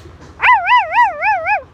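A young child imitating a dog gives one wavering, warbling yelp-whine that rises and falls several times over about a second, voiced close and fairly loud and heard on its own.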